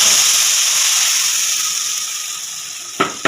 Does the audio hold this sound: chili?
yes